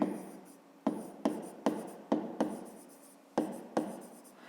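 A math solution being written by hand, likely pen on paper, with a series of close scratchy strokes each starting with a sharp tap and trailing off, irregularly spaced and with no talking.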